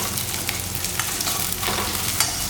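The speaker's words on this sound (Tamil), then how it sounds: "வெங்காயத்தை மட்டும் நல்லா வதக்கிக்கோங்க." Onions sauté in a pan for mor kuzhambu, a close, steady sizzle and frying crackle with faint scraping of stirring, no talk.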